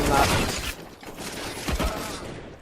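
Rifle spray in a competitive Counter-Strike match, a fast continuous burst of automatic gunfire at moderate volume with a caster's voice running over it.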